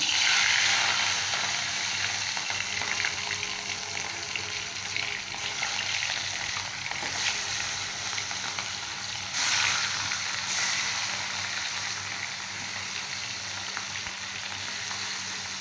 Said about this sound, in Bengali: তেলটা যখন গরম হয়ে আসবে আমি একে একে মাছগুলো দিয়ে দিচ্ছি।